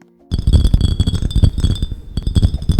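Glass breaks in a keyboard video game with a loud, dense burst of clinking and shattering shards, followed by a second crash of glassy debris near the end.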